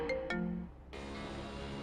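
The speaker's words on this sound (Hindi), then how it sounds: "तभी ज्योति बुआ की बेटी प्रीति का फोन आया।" A phone rings in a quiet room with a short electronic tone, two quick chirps and then a held note, followed by a steady hum of background music.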